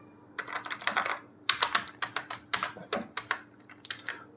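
Rapid keystrokes on a computer keyboard while R code is typed, a close, steady run of sharp clicks in quick bursts with brief pauses.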